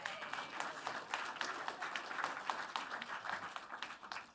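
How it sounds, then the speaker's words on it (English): A crowd applauds at a YMCA fundraiser gala, steady mid-distance clapping lasting a few seconds at fairly low level, with no talk over it. "So round of applause for yourselves over there."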